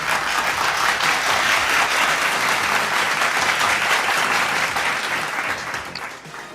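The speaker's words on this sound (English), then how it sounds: "Well, you're not supposed to clap at that." A comedy show audience claps loudly and steadily, a dense wash of applause that holds for several seconds and then fades toward the end.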